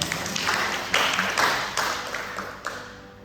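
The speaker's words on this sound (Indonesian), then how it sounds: "Tepuk tangan dulu ya." Scattered clapping from a church congregation in a hall, a handful of loose claps and taps rising and fading over a few seconds at moderate distance.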